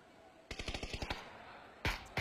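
Automatic gunfire in PUBG during a PCL esports match: a rapid burst of about eight sharp shots, then a pause and two louder bangs at the end, with faint background noise.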